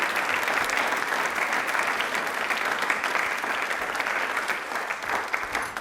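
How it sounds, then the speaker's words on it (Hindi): A studio audience at a Rajasthan quiz show breaks into loud, sustained applause, dense and even throughout with no break. "ताली एक बार जोरदार बजा दीजिए एमका के लिए भी"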